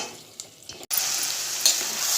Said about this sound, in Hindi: अब मैं इसमें ये निथारने के लिए जो चावल रखे हैं वो डालूँगी